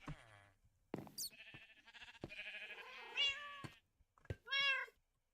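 A white cat sitting in a boat in a video game gives several distinct meows, some short and some drawn out and rising, spaced irregularly with quiet gaps between them.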